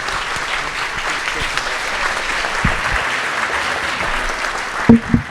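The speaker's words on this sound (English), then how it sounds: "Can I get a round of applause for the EEO Advisory Council?" Audience applause at a college fall convocation, steady clapping from a crowd that fills the whole stretch at an even level, with a couple of louder thumps near the end.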